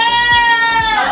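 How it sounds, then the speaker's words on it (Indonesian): A Mekawa goat on a small farm lets out one loud, close, wavering bleat lasting about a second. "ini kambing-kambingnya, jenisnya kambing Mekawa."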